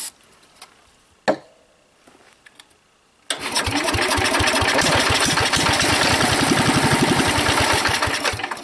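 Old Sears Super 12 garden tractor engine, quiet clicks and a sharp knock, then the engine catches and runs with a steady loud chugging idle close by.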